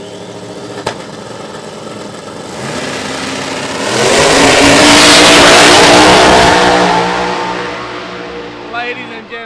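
No-prep drag race car with a Pro Charger Hemi engine building into a loud, sustained roar that peaks mid-clip and fades, with an announcer talking over the track noise.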